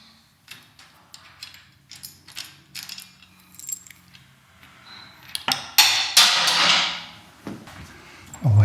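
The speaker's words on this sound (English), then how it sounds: "And now quite easy, just take off the screws here." Screws are backed out of the handlebar area of a Royal Enfield Meteor 350 with a hand tool, giving scattered metallic clicks and ratcheting ticks with small clatters, and a louder scraping rattle near the end.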